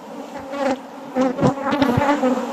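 Honey bees buzz loudly and close by during a honey harvest, with several overlapping wing drones swelling and fading as individual insects pass near.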